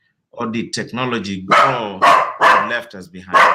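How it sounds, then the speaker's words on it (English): A dog barks repeatedly nearby, several sharp yaps cutting through a man's ongoing speech about technology, loud and close. "Excuse me, that's my dog."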